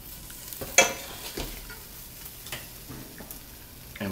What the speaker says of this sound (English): Now these have been sauteing for about half an hour or so